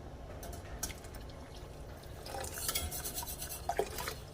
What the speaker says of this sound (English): I'm going to go ahead and drizzle it in